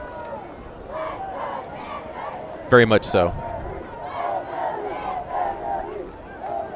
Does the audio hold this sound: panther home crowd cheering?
yes